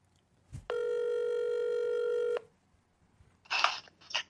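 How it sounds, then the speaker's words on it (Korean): A telephone connecting a call during a live broadcast: a single steady electronic tone lasts nearly two seconds after a short click, followed by a pause and a few brief noisy bursts on the line. "전화 연결을 해서 직접 한번 말씀을 들어보겠습니다"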